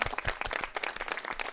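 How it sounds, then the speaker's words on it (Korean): Studio guests at a presidential radio and internet address special are met with clapping: a short burst of distinct hand claps from a small group, fairly close and lively, with no talking. "박수로 맞이하겠습니다"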